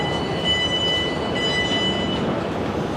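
A South Western Railway train heard from on board on the way to Hampton Court: a steady, loud rumble of running gear with a faint high tonal whine above it, continuous throughout with no talk.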